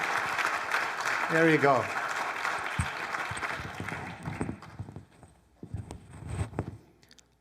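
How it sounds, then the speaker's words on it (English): A mosque audience at a Friday lecture claps in a short burst that tapers off, followed by quieter shuffling and someone speaking briefly. "Clap like a believer."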